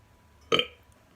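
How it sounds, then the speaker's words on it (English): A single short burp sounds alone in an otherwise quiet moment, brief and moderately soft. "Oops. Burps."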